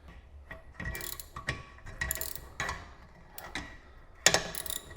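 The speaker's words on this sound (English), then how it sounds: "you can actually hear the rotor popping out from the hub, which is a good thing" On an Acura TL, a rear brake rotor is worked loose from the hub with a screwdriver, giving a series of close, irregular metallic clicks and ratcheting pops, with a sharper knock near the end.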